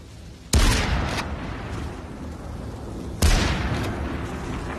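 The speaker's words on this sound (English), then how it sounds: "Shots start coming from construction." Two loud gunshots from a shotgun in the VR battle royale game Population: One, sharp blasts spaced about three seconds apart, each trailing off into a ringing decay over a steady game background.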